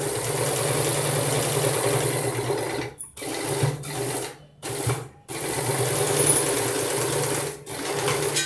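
A sewing machine stitches fabric for a phone pillow stand in steady, close, whirring bursts, stopping briefly several times between runs, with no talking.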